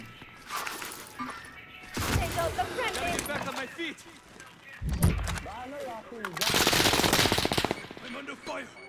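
Rapid automatic gunfire bursts in a video game shooter, loud bursts repeating across the clip with short pauses between, mixed with other game effects while a voice talks over the action.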